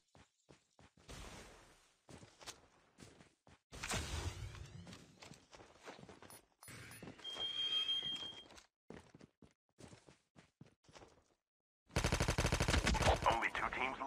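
Bursts of M21 rifle gunfire in the mobile shooter Call of Duty Mobile, loud sharp cracks separated by pauses and ending in a dense sustained volley, with a few footstep-like taps and faint talk in between.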